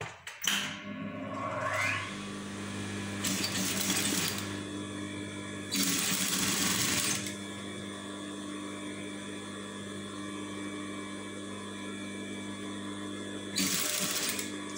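A sewing machine stitches a Kabyle dress with a steady mechanical hum, broken by a few louder bursts of faster running. The sound stays close and alone, with no talk.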